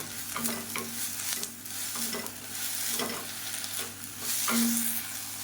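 Mint leaves and tamarind being sautéed in a pan, with a soft continuous sizzle and repeated scraping stirs at a steady pace, close and moderately loud with no talking.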